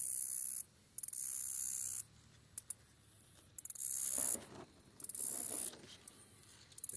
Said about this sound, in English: bush cricket, whatever you want to call it. And that's what makes the noise.